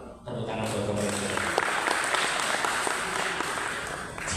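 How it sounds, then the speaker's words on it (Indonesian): Audience applause at a creative-economy event in Jember, starting after a brief voice and swelling into steady crowd clapping with a few distinct sharp claps, sustained for several seconds. "Tepuk tangan buat pemerintah."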